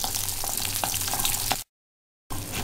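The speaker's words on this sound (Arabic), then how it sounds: "وهنقلب البصل بس دقيقة في السمنة" Onions frying in ghee in a pot, a steady close sizzle with occasional stirring clinks, cut by a brief silent gap before the sizzling resumes.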